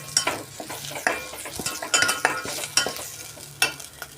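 Fresh coriander sautéing in hot oil for a Kolhapuri chicken rassa, with a close sizzle and a series of sharp, evenly spaced scraping stirs from a spatula.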